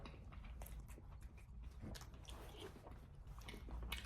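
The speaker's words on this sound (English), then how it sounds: "I would expect the banana chips to be more crunchy, but since I put that hot water in there, I guess they've gotten like less crunchy" Rehydrated banana chips from a Swedish military ration being chewed up close, a soft, moist, steady mastication with faint squishy bites rather than a crisp crunch, continuing for a few seconds without talk.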